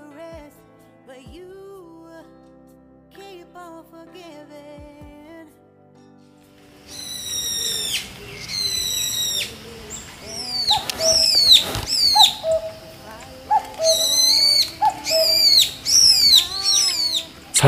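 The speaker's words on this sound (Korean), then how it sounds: "산속새들의 오케스트라 합주가 기분 좋게 합니다." Mountain forest birds call in a lively chorus, with repeated bright whistled phrases rising and falling close by, preceded by a quieter stretch of soft, low calls.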